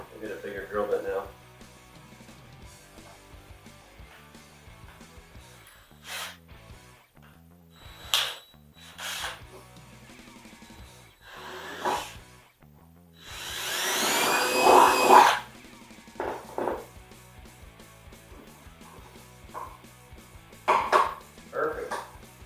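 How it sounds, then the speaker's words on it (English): A power drill with a bigger bit bores into a plastic storage armrest console in a 2003-2006 Scion xB, with brief whirring bursts and one longer grinding run amid quiet stretches and talking. "We'll get a bigger drill bit now."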